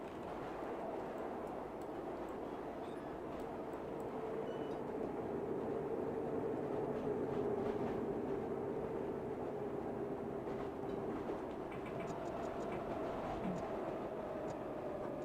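A Bakerloo line train runs on the West Coast Main Line in the Train Simulator 2020 game, heading into sidings. It gives a steady, fairly quiet electric motor hum with a sustained whining tone and faint rolling clatter.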